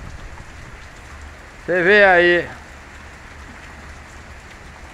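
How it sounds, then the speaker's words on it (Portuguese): Heavy rain falling in a town in Brazil's Northeast, a steady wash of rain running throughout, briefly overlaid by someone speaking close by. "É chuva grossa. Chuva grossa e o negócio aqui tá bom."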